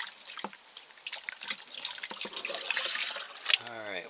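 Water sloshing and trickling as sediment is washed in a small gold pan, with splashy, uneven swirls growing busier toward the end, close by and moderately quiet.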